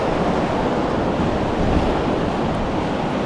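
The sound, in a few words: big ocean waves on the shore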